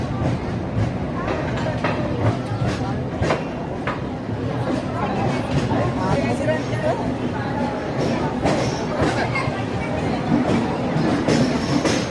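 A busy railway platform in India as a Chennai–Santragachi AC express stands by, with the rumble and clatter of rail cars under a steady crowd murmur, scattered door and metal knocks, and people talking nearby throughout.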